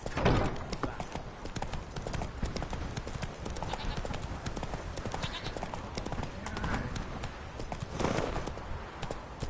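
Roach the horse galloping in The Witcher 3, a rapid continuous clip-clop of hooves close and loud throughout, with a voice speaking over it.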